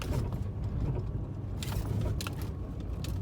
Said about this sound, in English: It sounds like a sway link or something in the front end.